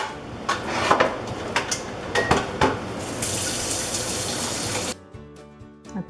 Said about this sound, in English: And then wash up my blender for one last time.